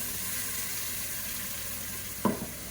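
Blended tomato sautés in hot oil for mutton dum biryani, a continuous moderate sizzle with one brief sharp utensil knock near the end, no talking.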